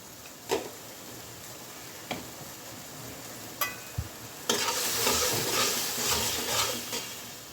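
Spiced beef sizzles and fries in a pan, with occasional sharp clinks of a utensil stirring; the sizzle grows louder and denser in the second half.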